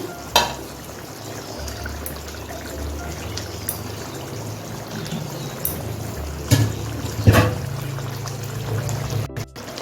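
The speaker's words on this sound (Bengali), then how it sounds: "এখন আগে থেকে ভেজে রাখা মাছটা আমি দিয়ে দিচ্ছি" Pre-fried pomfret fish goes into boiling gravy on a stove, with a steady bubbling simmer, occasional splashes and utensil knocks, and a few sharper clatters near the end.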